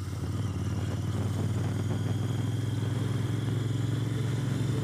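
A Royal Enfield Interceptor motorcycle rides along a gravel road in rural Lincolnshire, its engine giving a steady, loud, continuous low drone with a constant rumble throughout and no voices.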